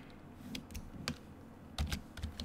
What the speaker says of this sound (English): let's add the HTML element by typing out its opening and closing tags like so